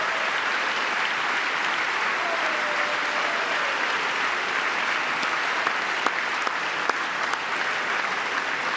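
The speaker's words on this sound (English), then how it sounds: "How do you not clap for that?" Audience at a congressional address claps loudly and continuously, a dense, even wash of applause throughout with a few sharper individual claps standing out.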